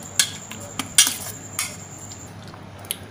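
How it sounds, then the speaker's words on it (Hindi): Chicken liver is stirred with ginger paste and vinegar in a bowl, a spoon clinking against the dish a few times in quick, irregular taps over a low steady hum. "इसको अच्छे से मिक्स कर देते हैं"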